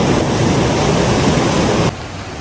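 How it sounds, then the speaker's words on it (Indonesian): Stream water rushes steadily as it pours into a large river in the Slovenian Alps, a loud, continuous broadband roar that drops abruptly to a softer level near the end. "Lihat aliran airnya guys, dari sana ke sini itu dan berakhir di sungai yang besar ini."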